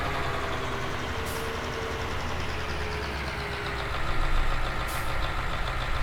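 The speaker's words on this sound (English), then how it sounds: "Really nice sounding engine." A beefy tractor engine runs steadily at close range, a continuous low rumble that grows slightly louder and rougher toward the end, with no talk over it.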